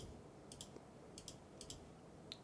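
Computer mouse buttons clicked during a game session, quick light clicks in small pairs and clusters against a quiet room hum, with no talk.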